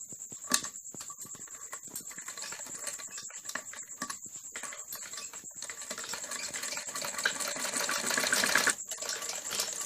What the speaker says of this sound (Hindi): जब हम सिलाई शुरू करते हैं तो थोड़ा बुकरम से पीछे सिलाई लेनी होती है।